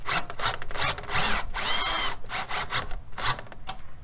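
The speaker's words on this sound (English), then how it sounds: "use the drill driver to put this first self-tapping bolt into place" A power drill driver driving a self-tapping bolt while replacing an RV scissor jack stabilizer whirs in repeated short bursts, rising in pitch as it spins up, close and fairly loud, with brief pauses between runs.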